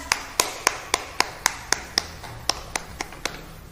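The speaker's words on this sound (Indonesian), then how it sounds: "Tepuk tangan untuk kelompok Gibran." Children in a classroom clap in unison for a group. About fourteen sharp, evenly spaced claps ring out in a steady brisk rhythm, close and clear.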